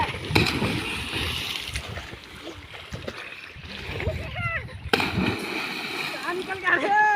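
River water splashing and sloshing close by, uneven and irregular, with people talking over it throughout.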